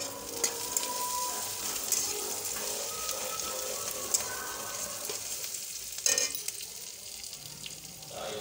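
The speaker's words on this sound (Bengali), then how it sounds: "পেঁয়াজটা হালকা হালকা ভাজা হয়ে গেলে এর মধ্যে লঙ্কা কুচিগুলো দিয়ে দিতে হবে" Onion and chopped green chillies frying in oil in a pan, a steady soft sizzle with a few brief clinks, heard alone without talk.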